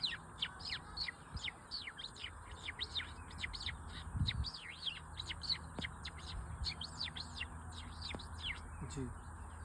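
A man vocally imitates bird chirping, giving a fast run of short, high, tweeting chirps that repeat rhythmically and fairly loud, with a few low background thumps beneath.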